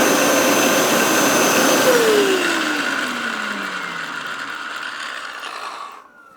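Hoover PowerScrub Deluxe carpet cleaner motor powering up, a steady loud mechanical whir with rotating brush rattle and a falling tone as it settles, ending abruptly when switched off.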